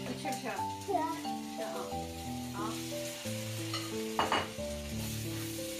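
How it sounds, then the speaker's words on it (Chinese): Chicken pieces and onion stir-fried in a pan give a steady sizzle and scraping stir, heard under continuous background music throughout. "再把拌好的鸡块呢也倒进去。"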